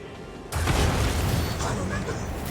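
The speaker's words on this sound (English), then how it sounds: "What did he throw like some weak grenade on us?" A grenade bursts in Warhammer 40K Rogue Trader with a sudden loud boom that cuts in and then rumbles on as a broad, crackling roar.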